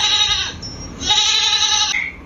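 A goat bleating sound played from a smart speaker, two drawn-out wavering bleats, close and clear with no talk.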